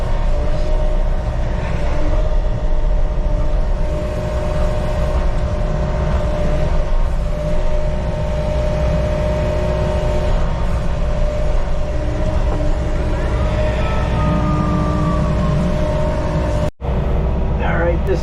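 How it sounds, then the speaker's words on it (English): A skid steer compacts ground where stone will go, its engine a loud, steady close drone with a sustained hum, briefly cutting out near the end. "I'm going to hit it with the skid steer first."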